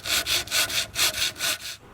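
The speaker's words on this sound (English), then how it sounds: "I'm going to do a little sanding now." Hand sanding on filled areas of a Crosley 718-B wooden radio cabinet gives about eight even, close back-and-forth rasping strokes, alone.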